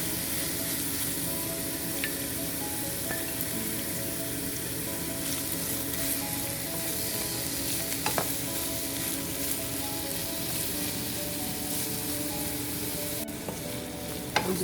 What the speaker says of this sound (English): now we're gonna saute in a little bit of oil now